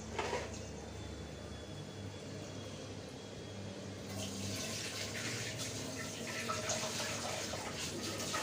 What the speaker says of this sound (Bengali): আমি একটু হাতটা ধুয়ে আর ব্লেন্ডারটা ধুয়ে দিয়ে দিলাম।